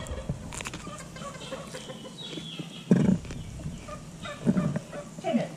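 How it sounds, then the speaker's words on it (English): Chickens cluck softly nearby, with a few louder bursts of clucking breaking through a quiet outdoor background. "Check out these chickens."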